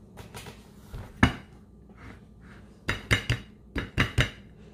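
A caramel pudding mould is flipped onto a plate in a home kitchen, giving a few loud dish-and-metal clunks followed by a rapid series of sharp clinks and knocks of plate against mould, close up and with no talking.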